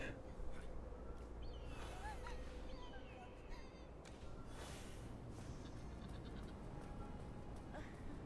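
Several faint sheep bleats in the video game AFK Journey rise over a continuous low background hum, spaced irregularly and sounding somewhat distant.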